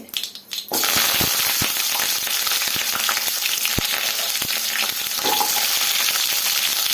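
Onions sizzling in hot oil for a village-style horse gram curry: a steady, bright frying hiss after a brief quiet start, with occasional sharp pops and crackles throughout.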